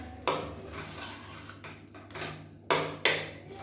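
Coconut paste being stirred into a hotel-style kurma in a pan: a spoon scrapes and clinks against the metal in a few separate strokes, close and moderately quiet over a steady background hum.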